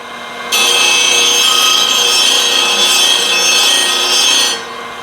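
An Apex 16-inch pedestal disc sander, model 16S, grinds burrs off a metal piece in one loud, steady, close rasp lasting about four seconds, with the motor's lower whir running before and after the contact.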